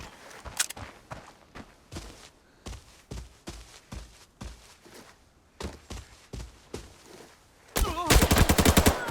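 Repeated gunfire in the shooter game Arena Breakout, a steady run of single shots spaced through the clip, then a dense rapid burst near the end, loud and close with no talk.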